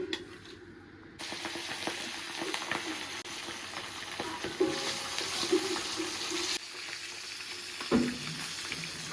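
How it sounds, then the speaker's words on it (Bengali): Pieces of bata fish fry in hot oil, giving a steady close sizzle that swells and crackles as pieces are added, with brief clinks of a utensil; no talking. "তেলটা গরম হয়ে গেছে, এবার মাছগুলো এক এক করে ভেজে নেব।"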